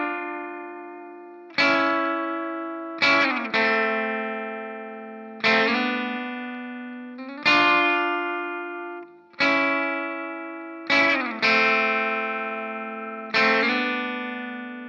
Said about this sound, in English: we have one last section we got to cover, and this is the guitar breakdown.